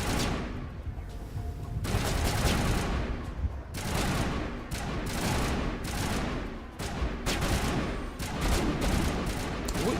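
Dense, loud bursts of gunfire rattle almost continuously in a Mass Effect 1 firefight, with rapid overlapping shots and brief gaps between volleys.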